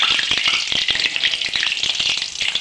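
Naan dough frying in hot oil, a loud, dense, continuous sizzle and crackle close by, with no voices.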